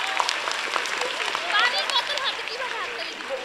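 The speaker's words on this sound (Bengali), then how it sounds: "হাততালি হোক" A group of students claps during a school talk, a short burst of applause up front that thins out while voices carry on over and after it.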